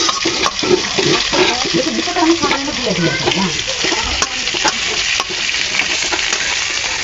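Chicken pieces frying in a pan, turned to brown on both sides: a loud, steady sizzle with scraping and occasional sharp knocks of a utensil, and faint voice-like sounds blended in.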